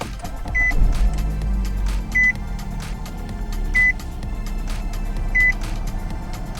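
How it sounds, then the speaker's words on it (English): A 2016 Nissan Rogue SV is started with its push button: a low thump of the engine catching comes early, followed by a steady idle and four evenly spaced electronic chimes from the dashboard. "It's a push button start located to the right of the steering wheel, and here's what it looks like when you turn it on."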